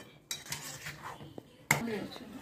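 A metal plate clatters down onto a pan of rava upma as a lid, with a couple of sharp close clinks and light scraping over a faint low sizzle.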